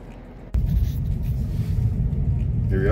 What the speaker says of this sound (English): Little driving demo with my all-wheel drive Maverick